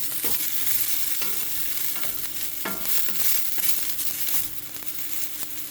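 Shakuti masala with sliced onion roasting in a hot pan, a steady loud sizzle with repeated scraping stirs of a spoon against the metal, close up and without voices.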